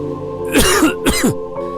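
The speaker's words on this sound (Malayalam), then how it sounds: "നശിച്ച ചുമ" Two harsh, close coughs come one after another, loud and raspy, followed by a softer third hack.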